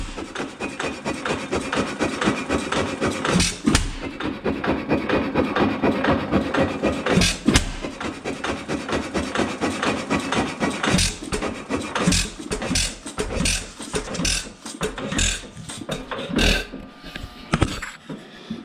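A Witte 6 hp headless engine turns over slowly at about 250 RPM, close and steady, with a rough rubbing, chuffing rhythm and sharp periodic knocks growing more frequent toward the end.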